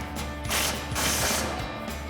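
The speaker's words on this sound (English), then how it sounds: "we'll come in with our 13mm socket, an extension on our impact, and tighten this down" An impact wrench fitted with a 13mm socket on an extension tightens an exhaust bolt, giving two short rattling hammering bursts close by with a quieter mechanical pause between them.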